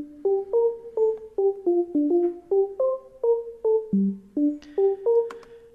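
Synth lead with a light chorus effect playing a bouncy melodic line of short, clipped notes in a steady rhythm, fairly quiet and alone, ending on a few brighter, higher accents.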